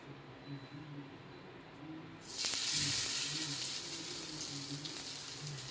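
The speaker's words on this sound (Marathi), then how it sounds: "इथं बघा मी कटलेट असे फ्राय करायला ठेवलेले आहे" Sweet corn vegetable cutlets drop into hot oil in a pan and a loud, steady sizzle erupts, holding strong and slowly easing, with a low hum underneath.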